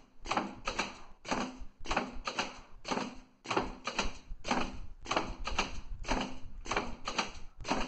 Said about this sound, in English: You see the cutter cylinder. Now you see the sheet is cut.